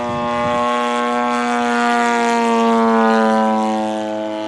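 Balsa USA Fokker D7 scale model plane in flight, a loud steady buzzing engine drone that holds its pitch and swells slightly as it passes, heard alone without talk.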